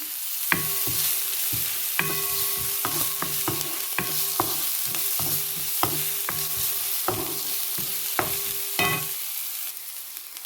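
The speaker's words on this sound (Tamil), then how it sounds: "இப்போ நான் வெங்காயம் போடுவோம் பச்சை மிளகாயும் போடுறேன்" Onion and green chilli frying in vegetable oil in a pan, a steady close sizzle broken by repeated sharp scrapes and clacks of a stirring spoon against the metal, with no talking.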